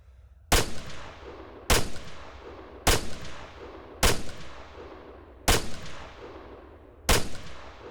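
Six sharp gunshots from a rifle in the military shooter game ArmA 3 ring out alone at even intervals, each loud crack followed by a short decaying tail.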